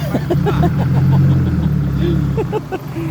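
A farm tractor engine runs nearby with a low, steady rumbling chug, heard under overlapping talk.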